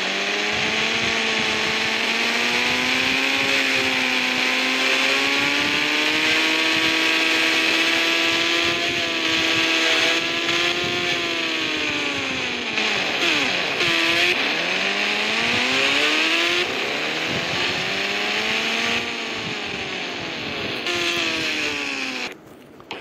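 A car engine in the Indian Bikes Driving 3D video game revs loudly and steadily, its pitch climbing, dipping sharply around the middle and climbing again as it speeds up, with no talking over it.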